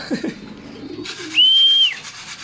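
Pigeons being tamed: soft low cooing at the start, then a single clear, sustained high whistle-like call near the middle, close and quiet.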